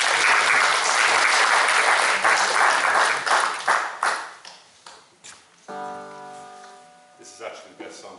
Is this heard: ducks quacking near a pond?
no